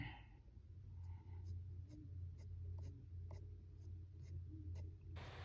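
Colored pencils layering burnt ochre, beige sienna and lime peel over each other on paper, a soft close scratchy scribbling that runs steadily under low room hum.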